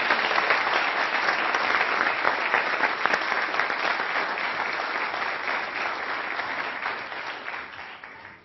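Audience applause fills a hall in a long, steady wave of dense clapping that starts loud and slowly thins toward the end, with no voices over it.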